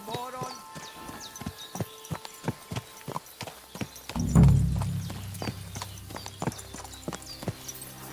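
Steady clip-clop of horse hooves trotting at a brisk, even rhythm in the video game Kingdom Come: Deliverance II, with a brief low thump midway; no voices.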